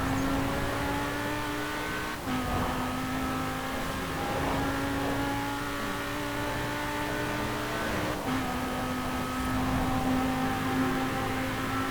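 A 1993 Porsche 928 GTS in Forza Horizon 4 drones at high revs under sustained acceleration, a loud continuous engine tone with two brief dips as gears shift, alone without talking.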